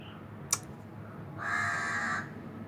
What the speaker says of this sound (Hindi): देखो कौवा आ गया बाहर